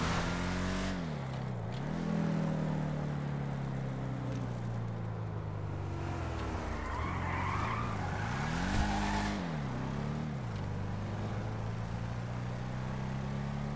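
A Chevelle muscle car in a driving game roars with a droning engine that rises and falls through gear changes, tires squealing and skidding intermittently, continuous and close.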